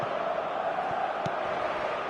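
Steady stadium crowd murmur from an eFootball match, a continuous loud wash of spectators with a few brief thuds and no clear cheers.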